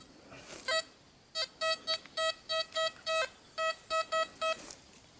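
Metal detector giving a repeated tonal beep signal on a target read at 84-86, about a dozen short clear pulses in an uneven rhythm over faint background hiss.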